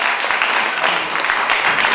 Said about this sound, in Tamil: கரங்களை தட்டுங்க உற்சாகமாக.